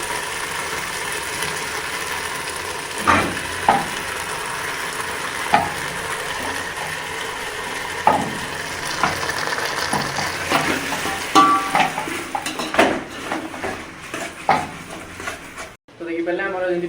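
Onion and capsicum sizzle in a pan for chilli chicken, stirred with intermittent scraping and clinking of a utensil, close and steady under occasional speech, with a short abrupt break near the end.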